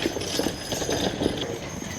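Hooves of draft horses such as Percherons, Belgians and Clydesdales clip-clop steadily while the team pulls a wagon at a draft horse show competition, a close, continuous patter with crowd noise beneath.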